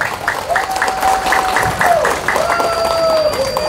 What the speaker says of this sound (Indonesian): Tepuk tangan untuk Kuburaya.